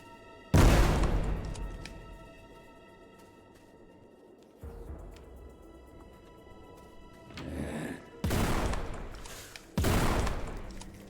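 Heavy gunshots from the game Forgive Me Father boom out in separate loud bursts, first one blast, then a quieter stretch of rumbling ambience before two more sharp, loud volleys near the end.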